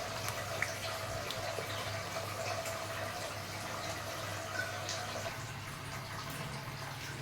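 Liquid pours steadily into a container in a home kitchen, a continuous close trickling splash with no talking.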